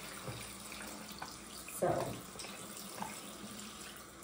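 Water running and splashing in a tub while a silicone doll is bathed, a soft steady flow with one brief louder splash, and a voice speaking quietly at the start.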